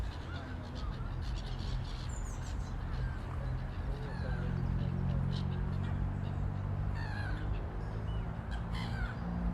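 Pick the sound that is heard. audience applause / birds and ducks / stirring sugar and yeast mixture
birds and ducks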